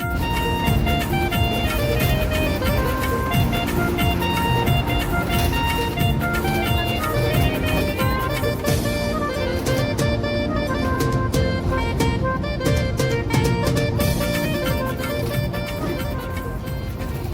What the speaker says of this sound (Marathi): गाडी जी आहे ती पुढे माणगावसाठी आता निघालेली आहे बघा गाडी पूर्णपणे भरलेली आहे